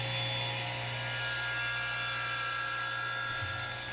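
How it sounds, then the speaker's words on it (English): A table saw, blade tilted to a bevel, hums steadily as it trims a chamfer along the top of a wenge and birdseye maple keepsake box, a faint continuous whir with light wood rubbing. "I've set the bevel on the table saw to about 15 degrees and moved the fence over to just take off about a ½ an inch from the top of the box."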